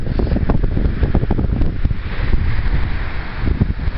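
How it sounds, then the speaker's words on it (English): Strong wind gusts roar steadily across the microphone in a berry garden in Western New York, a loud continuous buffeting with rustling underneath, and no one talking. "at the moment I got wind, lots of wind"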